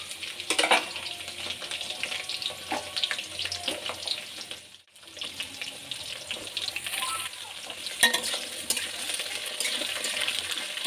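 Mixed vegetables tipped in and stirred among lightly browned potatoes frying in a pan for a vegetable curry: a steady hissing sizzle with scattered scrapes, briefly dropping away midway before returning.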